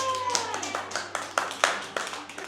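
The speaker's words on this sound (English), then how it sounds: "Clap your hands if you like this job." Several sharp hand claps, irregular and fairly close, with a faint tonal hum and brief murmurs in the background.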